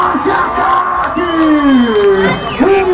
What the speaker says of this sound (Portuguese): Cadê a gritaria, gritaria, gritaria?